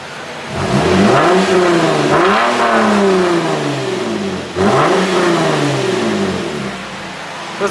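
Lexus IS250 engine fitted with a Vibrant resonator exhaust, revved hard twice, each rev climbing and then falling back; loud and close with a deep droning exhaust note, no voices.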